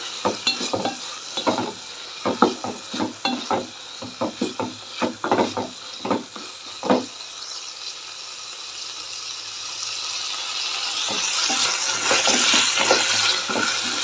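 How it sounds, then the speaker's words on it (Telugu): Green chilies and fresh coriander stirred in a hot pan for amaranth leaf rice, a spatula scraping in a quick irregular rhythm over a soft oily sizzle that grows steadier and brighter toward the end. "కొత్తిమీర కూడా వేస్తున్నాం అలాగే కలిపేసుకొని పచ్చిమిర్చి కూడా వేసుకున్నాం"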